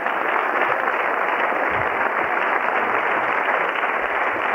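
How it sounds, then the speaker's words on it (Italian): Studio audience applause on an Italian television science programme, a dense, unbroken roar of many hands clapping at steady loudness from start to finish, with no distinct individual claps. "E le facciamo anche un applauso."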